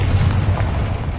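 A Confringo spell blast in the Hogwarts Legacy video game gives a loud, deep boom with a rumbling low-end tail that sustains through a short burst, with no voices present.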